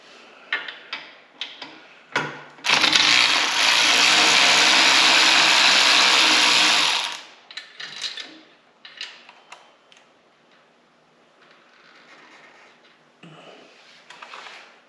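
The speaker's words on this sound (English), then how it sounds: "we're just getting out these two screws that I was telling you guys about" Screws come out of the rear suspension mount on a 2024 Harley-Davidson. Scattered metallic clicks and ticks surround a loud, steady power-tool whir of several seconds, followed by more sparse tool clicks close by.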